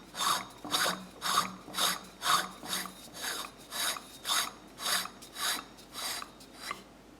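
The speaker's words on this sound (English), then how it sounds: "One-handed threading." Threading a part on by hand, one-handed, producing about eleven regular rasping strokes, each a short scraping burst of metal on metal, close and clear with no talk.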